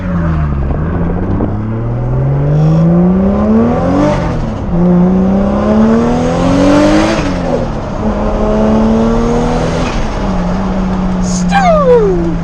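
A single-turbo 550 hp Toyota Supra with no blow-off valve revs hard through repeated rising pulls, each ending in a fluttering turbo surge, loud and close from inside the car, with a voice talking over it.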